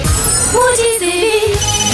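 A Bandai Miraculous Ladybug toy phone plays a bright electronic ringtone melody, a short run of rising and gliding synth tones that sounds loud and close over a busy musical backing.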